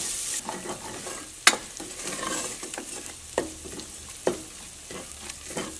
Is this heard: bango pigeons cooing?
no